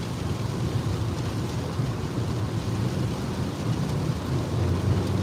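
Heavy rain pours steadily during a severe Kansas thunderstorm, a dense continuous wash with low rumbling of thunder mixed in, loud and without voices.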